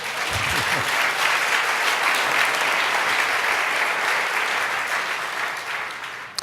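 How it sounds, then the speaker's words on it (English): Audience applause at an Urban Zen talk on Transcendental Meditation for veterans, a dense sustained round of many people clapping, steady and loud, tapering slightly near the end. "It's worth clapping on that one."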